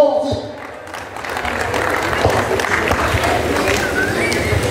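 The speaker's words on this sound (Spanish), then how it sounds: "venga el aplauso, señor" A crowd applauds and cheers at a ranch rodeo in Cuentepec, Morelos, a broad, sustained roar of clapping and voices that swells after a brief lull, with an announcer talking over it.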